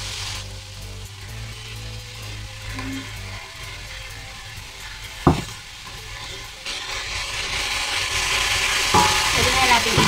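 Tomato being stirred into onions sautéing in a pan, with a steady sizzle of frying, scraping stirs and one sharp clink of a utensil against the pan midway, the frying growing brighter toward the end.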